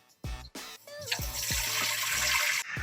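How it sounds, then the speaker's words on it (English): Water from a measured gallon being poured into the tank of an HD 3000 lawn sprayer, a steady rushing, splashing pour after a few knocks and handling bumps, fairly close. "I like to put the water in the tank first"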